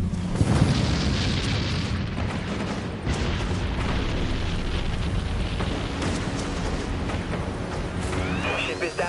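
A warship in the video game Dreadnought takes a continuous barrage of explosions and impacts, a dense, loud rumbling roar with repeated booms, while a voice speaks over it.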